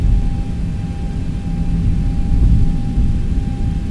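A Zibo Boeing 737-800 taxis in X-Plane 11, its engines giving a loud, steady low rumble and roar with a faint constant whine above, and no talking.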